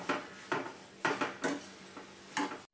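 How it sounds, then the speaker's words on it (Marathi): Sugar is stirred into carrot halwa in a pan over low heat, giving five or six evenly spaced scraping strokes of a spoon against the pan, close and fairly quiet. "साखर ही या गाजरामध्ये व्यवस्थित अशी मिक्स करून घ्यायची आहे।"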